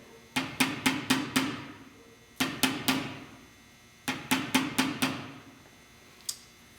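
Sharp metallic taps on aftermarket gauge parts in a C2 Corvette come in three quick bursts of four or five strikes each, followed by a single lighter tap at the end.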